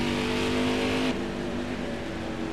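A NASCAR race car engine in a racing video game revs steadily and loudly, holding a high droning pitch that shifts down partway through, with no talking.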